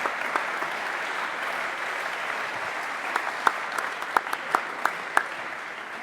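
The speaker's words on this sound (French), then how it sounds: "je vous demande d'applaudir Cécile Gamblin" An audience applauds at a cycling awards ceremony for bike-friendly cities, a steady soft wash of clapping with a few sharper individual claps standing out near the end.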